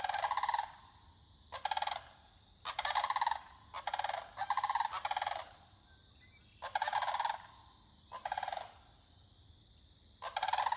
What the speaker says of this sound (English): All right, Sandhill Cranes.